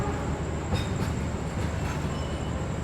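Economy carriages of a modified New Generation train roll past at a station in Indonesia, a steady loud rumble with faint wheel clatter and occasional light squeals, no voices.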